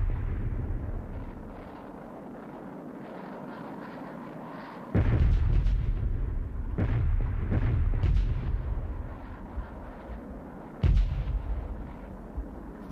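Bombs from bomber cells explode over Khe Sanh in heavy, rumbling booms, with a low continuous roar punctuated by several sharp, loud blasts.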